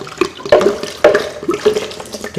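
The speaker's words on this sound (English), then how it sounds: "We're going to add some water to that." Water is poured into a bowl of nut cheese, giving close, bubbly splashing with several gurgling surges and no talking.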